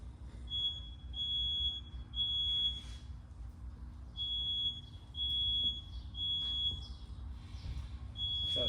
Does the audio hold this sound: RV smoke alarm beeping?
yes